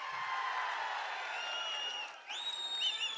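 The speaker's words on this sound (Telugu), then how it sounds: "అవునంటే గట్టిగా చప్పట్లు కూడా చెప్పండి అవునని" A large crowd at a Telugu Desam Party political rally in Andhra Pradesh claps and cheers steadily. Whistles or shouts rise briefly near the end, and the crowd noise stays fairly loud throughout.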